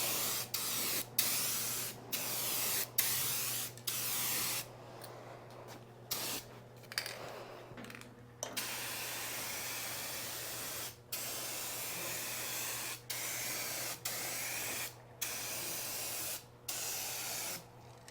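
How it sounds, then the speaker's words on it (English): A Rust-Oleum Turbo spray paint can sprays in a long series of close, loud hissing bursts, some brief and some lasting a few seconds, with short gaps between them over a low steady hum. "The beauty of the turbo can is they lay the paint on."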